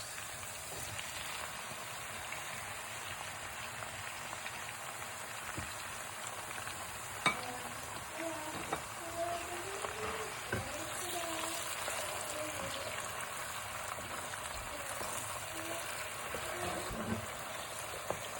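Onions and chopped tomatoes frying in red palm oil, a soft steady sizzle with light crackles and occasional stirring clicks, fairly quiet and close.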